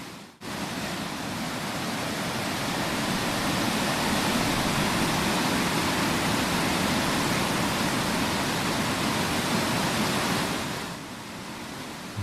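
Boburuella waterfall in Sri Lanka, a wide cascade roaring as a steady, loud, dense rush of falling water that holds unbroken throughout, easing only slightly near the end, with no voices.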